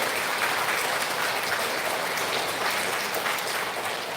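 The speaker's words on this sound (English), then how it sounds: "a nice round of applause will show how much you appreciate their efforts" A school audience at an elementary student recognition ceremony gives a sustained round of applause, dense steady clapping from many hands filling the room at moderate level without letting up.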